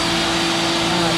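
Workshop machines run together at once, a vacuum with power tools such as table saw, chop saw, router and air compressor, making a loud, steady, dense roar with a constant hum and no breaks.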